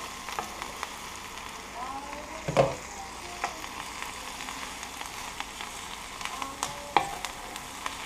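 Onions for French onion soup fry and brown slowly in a pan, a steady soft sizzle with occasional sharper stirring clicks and crackles, close and alone.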